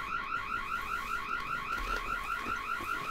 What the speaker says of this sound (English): You don't hear the alarm going off?